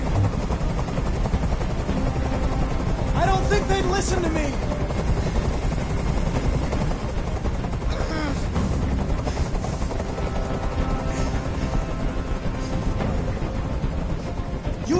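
A helicopter hovers close by in the video game Detroit Become Human, its rotor drone loud and constant for the whole stretch while someone shouts over it.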